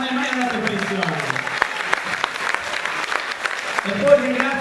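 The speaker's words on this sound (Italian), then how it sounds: "Pietro Fanda, un applauso perché sembra che non è mai andato in pensione." Audience applause at a school concert, steady clapping from a seated crowd that runs under an announcer's speech throughout, with a few children's voices nearby.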